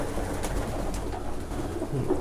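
Pigeons coo softly amid a steady background hum, a few low, rounded calls rising near the end of a short stretch with no talk.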